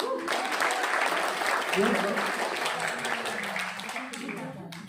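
Audience applauding in a hall after a health talk, a steady wash of clapping that fills the clip, fading slightly toward the end, with a voice speaking over it.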